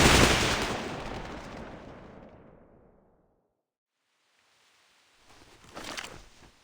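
A firing squad volley in the video game Reverse: 1999 rings out as a loud, dense burst of gunfire that rolls off and decays over about three seconds, followed by silence and then a softer rumble of sound.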